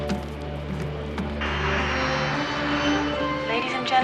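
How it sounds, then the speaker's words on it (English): Steady low roar of an airliner on final approach into Los Angeles International Airport, a constant engine drone heard from inside the cabin that swells slightly partway through. "Transglobal Airlines, Flight 604, originating in Sydney, Australia, is now beginning its final approach into Los Angeles International Airport"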